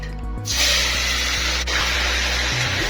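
Fries dropped into hot oil for a homemade hamburger meal, bursting into a loud, steady, close hiss and sizzle that holds without a break.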